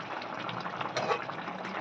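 Steady soft bubbling of a fish curry simmering in a pot on the stove, a continuous gentle burble with faint crackle, no voices.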